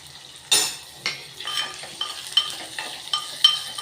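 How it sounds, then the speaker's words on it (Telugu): Large onion pieces dropped into a hot pan with a sharp sizzle, then stirred with a utensil giving a run of scraping clicks and taps, close and clear. "ఇప్పుడు ఉల్లిపాయలు కూడా వేసేద్దాం"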